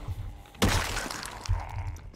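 Glass window shattering in the video game Project Zomboid: a sudden loud crash with a bright spray of breaking glass, then a second smaller crack and tinkle about a second later, no talk over it.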